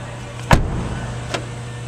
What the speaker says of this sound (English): The car actually just unlocked itself.